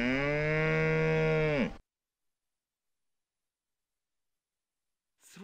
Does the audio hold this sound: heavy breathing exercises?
no